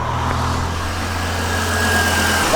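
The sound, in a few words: truck engine running after start-up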